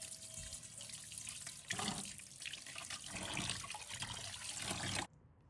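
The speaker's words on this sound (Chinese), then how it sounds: "先把它清洗一下，把表面的灰尘清洗干净" Pork belly rinsed under a running kitchen tap, a steady broadband rush of water with shifting splashes as the meat is turned, close and loud, cutting off abruptly near the end.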